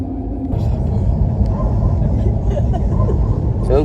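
An airliner taxis toward the runway before takeoff, heard from inside the cabin as a steady, loud, low engine rumble that continues throughout. A few faint voices murmur beneath it.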